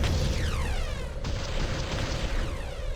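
An enemy structure blowing up in the real-time strategy game Ground Control, a loud dense boom with a crackling rush of debris that sustains for a few seconds without speech.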